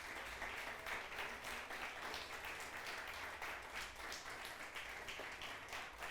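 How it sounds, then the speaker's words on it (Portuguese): A church congregation applauds during a worship service, a faint, dense patter of many hands clapping continuously throughout, heard from a distance. "Você pode aplaudir ao Senhor por isso?"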